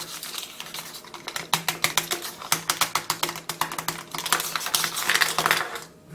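A set of metal keys scrapes and taps against an iPhone 6 in a fast, close run of sharp clicks and rattles for several seconds, with no voices.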